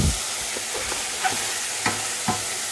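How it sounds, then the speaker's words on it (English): Chicken fries in a pan with squeezed lemon juice, giving a continuous close sizzle with a few soft clinks and scrapes of stirring, and no one speaking. "So that's been frying 3 or 4 minutes now."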